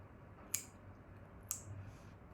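Chewing gum cracks twice, about a second apart, as sharp, faint, close-up snaps over a quiet background.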